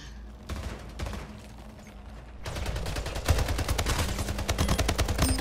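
Rapid gunfire from a Splitgate arena shooter match, a light spatter of shots giving way to dense, loud bursts of close automatic fire with a sharp heavy hit near the middle, and no voices.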